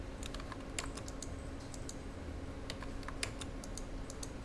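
Quiet, fairly fast keyboard typing of shortcut keys in CAD drafting software: a soft, close run of light key clicks over faint room noise.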